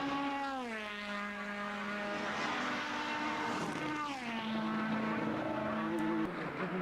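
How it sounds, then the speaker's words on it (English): A GP2 single-seater racing in a Formula BOSS Ireland race, running steel brakes in hill-climb spec, brakes hard at the end of a straight. Its engine note drops in pitch through downshifts, then revs climb and fall again, heard from a moderate distance. "It does sound like he's using quite a lot of engine braking at the end of the straight"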